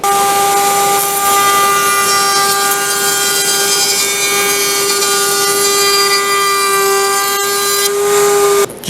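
Sanding or smoothing of 2x4 wooden parts for king-sized deck chair A-frames, a steady loud power-tool whine with a constant tone running nearly unbroken throughout and cutting off at the end.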